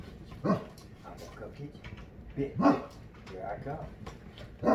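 A dog named Billy barks in short bursts a few times, fairly close, while someone talks playfully over it.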